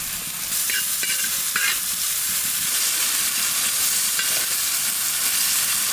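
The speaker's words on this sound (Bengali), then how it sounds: "টমেটোটা ভালো করে ভেজে নিলাম" Tomatoes with salt frying and being stirred in a pan, a steady loud sizzle with scraping stir strokes throughout, no voices.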